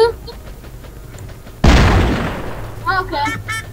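A single loud, close gunshot-like bang cuts in abruptly and fades out slowly. People talk before it and again afterward.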